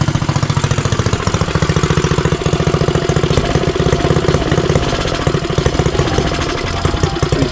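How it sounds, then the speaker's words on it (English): A custom Motovox mini bike's small engine idles fast and loud up close, a steady rapid knocking putter with a slight roughness throughout. "Sound like she just idled up too high to me"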